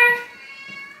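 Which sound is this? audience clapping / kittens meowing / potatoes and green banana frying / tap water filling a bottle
kittens meowing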